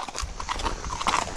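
Horse hooves clip-clop in a steady, close rhythm on a trail ride with a mare named Olivia, with faint creaks and soft background noise between the footfalls.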